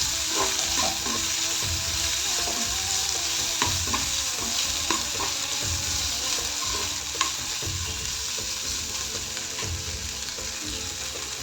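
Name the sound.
onion and ginger-garlic paste frying for bhindi masala curry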